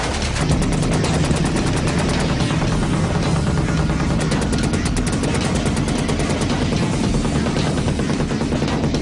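.50 caliber machine gun fired from a Huey helicopter in one sustained trigger-down burst, a loud, rapid, continuous hammering of shots over the heavy drone of the aircraft.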